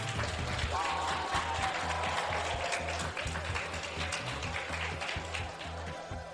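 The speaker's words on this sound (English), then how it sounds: "Please give him a big round of applause." Faint audience applause at the London Film and Comic Con 2019 during an interview with Corey Dee Williams, steady clapping heard at a distance over a low, humming background.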